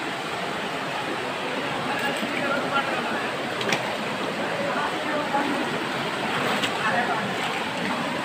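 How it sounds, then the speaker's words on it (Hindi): Fast-flowing floodwater rushing past during a flood in Asansol, a steady broadband roar of moving water with faint speech and occasional knocks underneath. "देखिए पानी का बहाव का स्पीड देख सकते हैं।"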